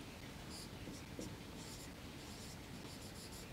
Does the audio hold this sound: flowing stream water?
no